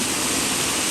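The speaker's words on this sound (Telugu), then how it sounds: "వాటర్ సౌండ్ అయితే వినిపిస్తుంది" Katiki waterfalls near Araku give off a loud, continuous roar of rushing, falling water, a steady wash of sound with no voices.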